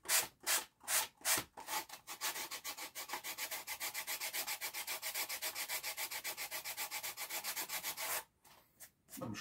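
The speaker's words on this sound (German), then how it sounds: "Beim Schleifen dann immer aufpassen, dass man hier die Kante nicht wegmacht." Hand sanding of a foam block, a steady run of rapid back-and-forth rasping strokes, close and even, with a few slower separate strokes at the start and end.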